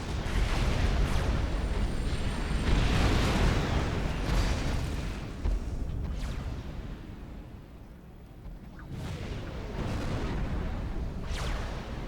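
Tech 3 artillery fires in a Supreme Commander Forged Alliance match, with loud booming blasts repeating over a dense rumbling battle din that dips briefly before the heavy thuds return.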